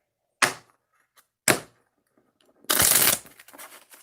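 Two sharp taps, then a quick fluttering riffle of cards being shuffled, close by.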